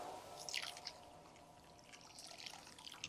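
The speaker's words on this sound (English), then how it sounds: "I'm going to first gently wash the rava with clean water." Millet rava being gently washed in clean water, soft quiet splashes and drips, a few brighter trickles standing out against a faint background hum.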